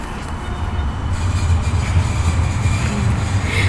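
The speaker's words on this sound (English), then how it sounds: "there's a train here" Train at a station beside a market area, a loud low rumble of rolling and idling rail engine noise with street ambience, steady throughout and fairly close, without speech.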